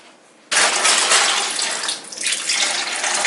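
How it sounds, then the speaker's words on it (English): Chicken broth and water pour into a pot of collard greens, a sudden loud, close gush that starts abruptly, dips briefly, then continues steadily. "I would say do a cup of chicken broth and then about a cup of water."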